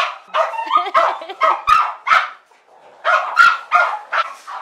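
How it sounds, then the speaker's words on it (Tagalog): Several small Shih Tzu and mixed-breed dogs bark in quick, yappy bursts, close by, with brief pauses between volleys. "Yan yung mga shih tzu ko."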